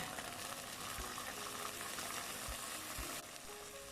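King oyster mushrooms are stir-fried with butter, mushroom sauce, sugar and light soy sauce. A steady, close sizzle continues throughout, broken by a few soft knocks from stirring.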